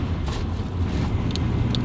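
Engine of a 1990 Nissan D21 pickup on a test drive after a new fuel pump, a steady low rumble with road noise from inside the cab.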